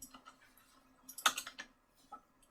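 Keys clatter on a computer keyboard in a quick, irregular burst of close, crisp taps, with a sharper cluster of clicks near the middle and a few scattered strokes trailing off, no voice.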